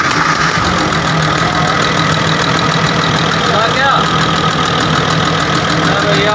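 Amrinder 920 combine harvester engine running steadily after a restart, a loud continuous idle with a knocking, rattling mechanical texture, close by, with voices talking over it.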